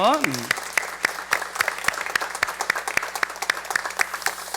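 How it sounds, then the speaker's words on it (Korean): A voice trails off at the start, then a church congregation claps in scattered, uneven beats, sharp and fairly close. "가정의 달에 속상한 사람들 힘내라고 박수로 다시 한번."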